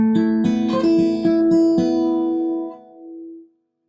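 Plucked acoustic guitar notes fingerpicked in C in a quick rhythmic phrase with percussive attacks and a fast pull-off, ending on a ringing note that fades out.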